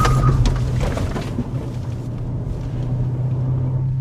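An Audi RS6 swerves hard in a moose-test evasive manoeuvre, heard as a loud close rumble of engine and road noise that swells at the start and then eases to a steadier drone.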